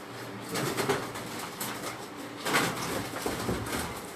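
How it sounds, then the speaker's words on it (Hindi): Pigeons on a rooftop loft make soft, low cooing and fluttering sounds in short repeated bursts, close by against light background noise, with no speech heard. "ये भी एक और कबूतर आपको दिखाते हैं, ये इनका टैडी कबूतर है"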